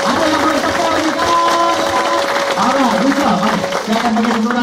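An audience at a motivational business event applauds in a sustained wash of clapping, loud and continuous, with a voice and tonal sound running over it.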